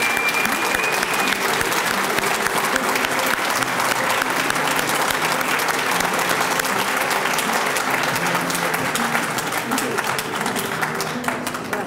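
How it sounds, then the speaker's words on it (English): Sustained applause from a large crowd, dense steady clapping filling the whole stretch at an even loudness, with faint voices mixed in. "will you all join me in one round of applause for our lecture today?"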